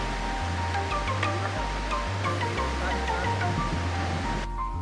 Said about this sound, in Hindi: ब्यूटी देखिए अब झरने की।